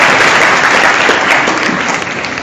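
A crowd at an ISKCON Ghaziabad celebration keeps up dense, continuous applause that stays loud and unbroken for a couple of seconds.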